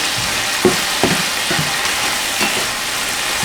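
Maple syrup caramelizing and boiling in a pan gives a steady close frying sizzle, with a few soft stirring knocks scattered through it and no talk.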